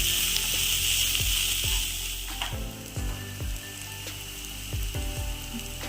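Mushrooms sautéing for a Kerala-style mushroom roast, a steady bright sizzle in the pan with repeated clinks and scrapes of a spoon stirring.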